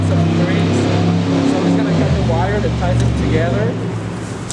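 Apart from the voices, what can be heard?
traffic noise, cars passing by outdoors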